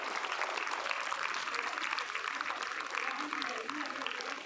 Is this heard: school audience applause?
yes